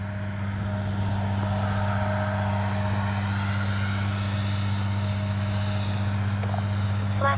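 An FMS 70mm Yak 130 RC jet flies low and slow, its ducted-fan engine giving a steady, even whine with a constant drone that holds at the same level throughout.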